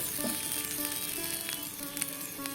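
Tender tamarind leaves frying in a pan give a steady, close hiss of sizzling oil, faint and even throughout, with no talking.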